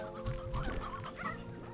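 Chickens in a pen in the video game Slime Rancher 2 cluck in a quick, busy run of overlapping calls, close and fairly quiet, with no talking.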